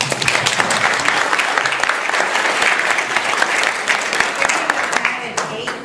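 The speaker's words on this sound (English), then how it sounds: "Yeah, just give her a round of applause." A workshop audience at an EFT conference gives a sustained, fairly loud round of applause. Scattered voices are heard within the clapping before it tapers off at the close.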